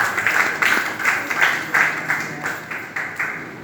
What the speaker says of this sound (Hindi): जोरदार यीशु के लिए ताली देंगे।